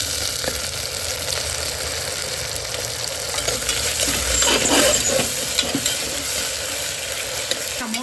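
Onion and tomato fry in a hot pan, a steady loud sizzle with faint stirring scrapes running throughout, no voice.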